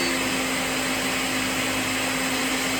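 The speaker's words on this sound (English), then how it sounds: "what I have is a little Moringa blender" A small blender making a moringa smoothie runs with a constant, loud high-pitched whine and buzz throughout.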